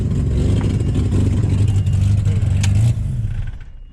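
A Holden Torana car engine runs loud and rough at a steady idle nearby, then shuts off and dies away at the end.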